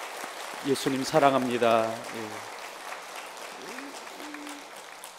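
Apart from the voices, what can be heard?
congregation applauding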